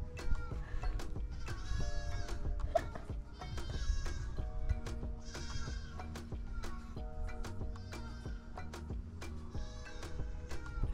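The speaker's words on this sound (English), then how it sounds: "There's definitely goats on here, we can hear them" Goats on an island hillside bleat repeatedly in the distance, several overlapping calls rising and falling over a low wind rumble.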